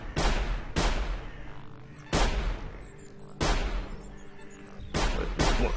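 Gunshots ring out in the stealth video game Sir, You Are Being Hunted, about five or six heavy booming rifle cracks spaced irregularly, each with a long rolling echo, fairly close and loud.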